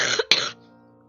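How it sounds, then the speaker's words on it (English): A person coughs twice in quick succession, close and fairly loud, the second cough the harsher. The coughs end abruptly, leaving a faint tail of room sound. "Every time someone calls me a cat, I have a coughing fit."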